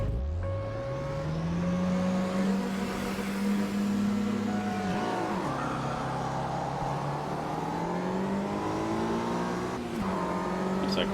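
A 1965 Mini Cooper S racing engine in the AMS2 racing game at Gateway, revving hard through the gears with a rising and falling whine and a brief dip between shifts, loud and close throughout.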